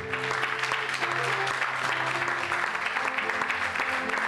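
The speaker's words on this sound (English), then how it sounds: "Let's give him a round of applause." A church congregation at a Sunday praise and worship service gives sustained applause, a steady, dense roar of clapping mixed with crowd noise and a low musical hum underneath.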